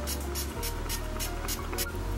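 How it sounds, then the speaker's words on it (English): Maybelline Master Fix setting spray sprays in a quick series of about six short, airy hissing spritzes, evenly spaced and close up over a steady low background hum. "So I'm just gonna spray for the sake of this video. I'm gonna use the Maybelline Master Fix"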